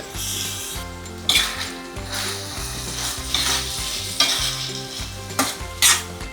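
Cluster beans (guar) tossed into hot oil and stirred, close and loud, with steady sizzling under repeated scraping strokes of a spoon against the pan and a few sharp clanks, no voices.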